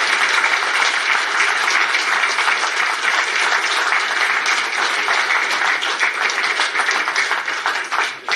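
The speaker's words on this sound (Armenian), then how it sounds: "ուզում եմ բոլորս ծափարություններով շատ ուժեղ ողջունենք այդ մարդկանց" Party congress audience applauding in a hall, a sustained dense wall of clapping that holds steady for several seconds before beginning to fade, with no talk over it.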